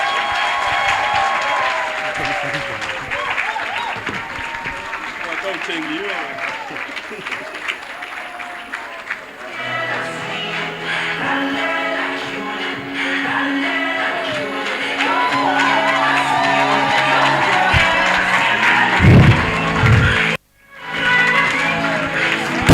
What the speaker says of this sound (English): Can we please do a big shout and round of applause to the executive as they come up front?